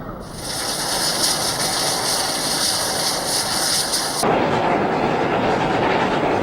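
Rotary snow plow pushed by White Pass & Yukon narrow gauge 90-class diesel locomotives number 1 and 2 through wet-packed snow near Skagway, a loud continuous roar with a high whine that cuts out partway through, leaving a broad rushing rumble.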